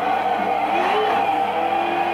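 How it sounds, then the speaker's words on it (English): A car drifting after a clutch kick, engine roaring steadily at high revs as the rear tyres spin and slide sideways, loud and close throughout without talk. "So we press the clutch, we have a lot of throttle, and then boom, we release the clutch, suddenly makes the rear tire spin, and we go sideways."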